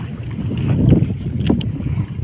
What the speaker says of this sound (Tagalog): Tapos magsasagwan ulit tayo pabalik.